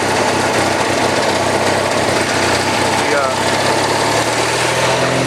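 A small engine with a slightly faulty carburetor runs steadily with its choke pulled partly out, a loud continuous drone with a rough idle, heard up close beside a shed.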